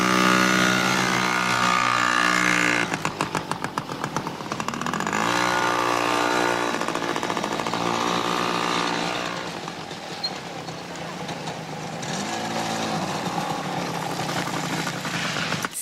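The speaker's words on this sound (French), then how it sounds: "Mon frère a une moto et moi j'ai une mobilette." Small engines of a child's motorbike and moped rev and buzz, a raspy two-stroke drone that rises and falls in pitch over several throttle swells, loud and close throughout.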